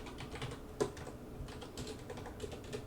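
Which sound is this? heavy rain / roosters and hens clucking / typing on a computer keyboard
typing on a computer keyboard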